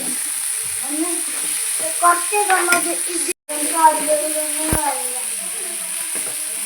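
Goat tripe cooking with tamarind leaves in a village-style pan, stirred with scraping, clinking strokes over a soft sizzle, with a few utensil knocks in the middle.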